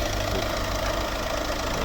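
A 2015 Peugeot 3008 with a 1.6 HDi diesel engine and automatic gearbox idles nearby, a steady low rumble with faint knocking throughout.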